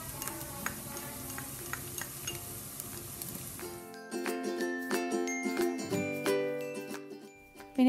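Crushed spicy green chillies and masala sauté in a pan for Malabar chicken biriyani, giving a steady close sizzle with faint clinks before tonal music takes over the second half.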